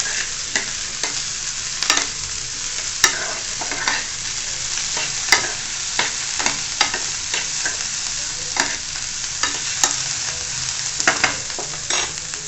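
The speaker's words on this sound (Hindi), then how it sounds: "अब डाल दूंगी इसमें प्याज। थोड़ी सी भून लेंगे इनको।" Onions frying in a pan, a loud, steady sizzle broken by frequent clicks and scrapes from stirring, close up and without speech.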